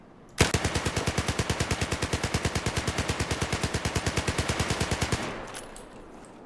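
Full-auto burst from an automatic weapon with a muzzle brake in Battlefield 4, a rapid, evenly spaced stream of around fifty loud shots lasting nearly five seconds, followed by a short fading echo.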